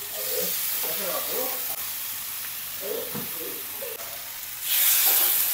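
Seasoned ribs for iga bakar grilling, with a continuous hiss and sizzle that swells louder near the end, while a voice talks quietly under it.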